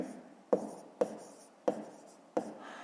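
Handwriting on paper during a fifth-grade maths exercise: four short, distinct pen strokes or taps at even intervals, quiet and close, with soft scratching between them.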